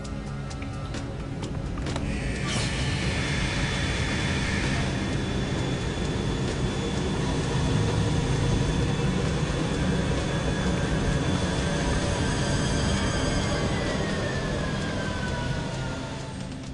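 A jet engine, throttled down to 35% power during a water ingestion test, gives a continuous loud roar with a faint high whine running through it. No one speaks.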